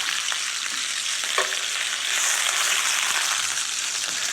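A salmon fillet fries skin-side down in a frying pan, giving a steady, loud hiss and crackle that fills the whole span, with a faint scrape of a spatula now and then.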